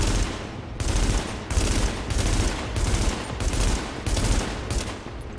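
Enemy gunfire in The Division, a continuous rattling barrage of bursts that pulses for several seconds with only tiny breaks, loud and close throughout.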